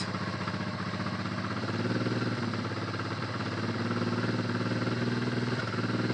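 A Honda Transalp motorcycle engine idles steadily, its uneven low putter rising slightly and stuttering as the throttle opens, with a faint clatter throughout.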